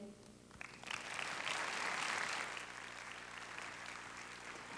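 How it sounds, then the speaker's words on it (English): Faint, distant applause from a conference audience at a leadership event, swelling after a moment and then gradually tapering off, with some talk mixed in. "let's give Tim a big round of applause, too"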